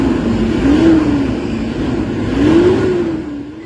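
A Toyota Hilux D40 engine with a low-power, throttle-delay fault revs up twice in a workshop. Each rise and fall in pitch is loud and close, with no voices.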